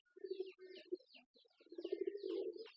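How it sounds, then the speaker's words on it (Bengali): Several pigeons perched on a tin roof coo in low, rolling phrases that overlap and swell, with a few faint chirps and wing sounds, fairly quiet and unaccompanied by speech. "কতগুলো কবুতর উপরে ছাদে রয়েছে ছাদে কবুতরগুলো সবগুলোই রয়েছে টিনের উপরে"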